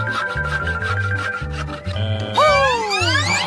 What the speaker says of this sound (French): je sais ce qui va m'aider. Une scie.